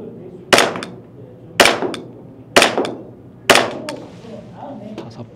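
Four sharp airsoft shots from a VFC TTI XR Combat Master gas pistol at an indoor range, evenly spaced about a second apart, each a loud crack with a short metallic ring close to the listener.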